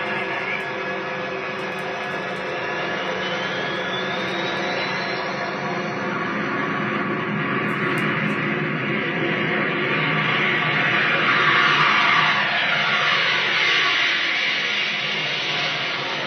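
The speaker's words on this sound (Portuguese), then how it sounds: "Isso é o som de um avião, alto para chuchu" A loud, steady airplane flying past, a broad continuous roar with a slowly shifting pitch sweep, sustained without pause over the whole stretch.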